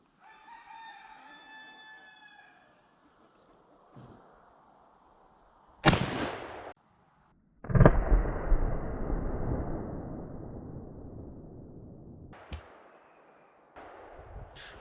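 An 1886 lever-action elephant rifle fires outdoors, with two sharp close blasts followed by long decaying booms. A rooster crows beforehand and no one speaks.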